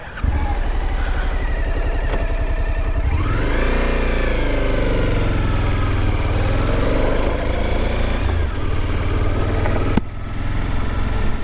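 A Suzuki V-Strom 1050 motorcycle engine runs loud and close, rising and falling as the bike pulls away and accelerates, steady throughout with a brief knock near the end.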